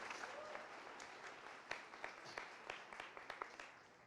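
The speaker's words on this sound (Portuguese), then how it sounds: "Uma salva de palmas para o Perry" An audience at a tenth-anniversary family gathering applauds a guest named Perry, a soft, steady patter of many hands heard from a distance, with a few sharper claps standing out near the end.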